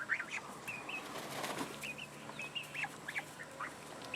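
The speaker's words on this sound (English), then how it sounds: "We got some chickens, death layers, guineas, and Muscovy ducks." Chickens, guinea fowl and Muscovy ducks in a mulched homestead pen, with repeated short high calls and chirps over a soft shuffling background and occasional wing flaps, fairly faint and close.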